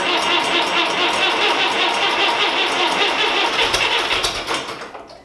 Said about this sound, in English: It'll be a cold start because it's about 20 degrees out today